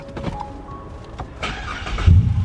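A Ford car engine cranks and catches briefly before stalling, with clicks and a short whirring turnover followed by a low rough burst near the end, close by and with no speech.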